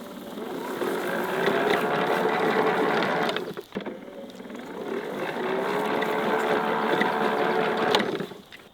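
Powersmart 80V battery-electric 26-inch self-propelled lawn mower running at low speed: a steady motor whine and whir close by, dipping briefly midway before resuming at a similar level.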